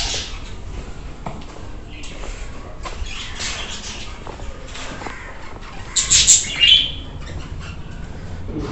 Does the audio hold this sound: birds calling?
yes